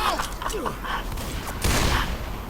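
Gunfire in the video game Left 4 Dead 2, with bursts of shots mixed with game effects and a louder blast near the end, under talk from players.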